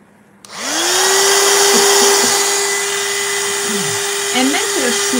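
A hair dryer switches on close by and blows a loud, steady whooshing hum over a wet watercolour painting, with faint talk underneath toward the end.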